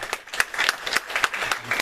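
A church congregation claps in encouragement during a Sunday worship service, a short burst of distinct, fairly quick claps in a loose rhythm lasting under two seconds.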